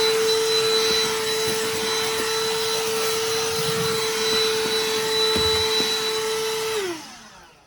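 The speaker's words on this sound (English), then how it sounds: "It's just a mini vacuum." A small vacuum motor whines steadily at a constant pitch, with faint clicks and bumps, then powers down and winds off at the end.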